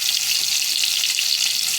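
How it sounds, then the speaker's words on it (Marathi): Garlic dropped into a hot kadai for a Marathi-style cabbage bhaji, giving a steady, dense sizzle that stays close and even throughout with no voices. "पहिले आपण कढईत लसूण टाकूया"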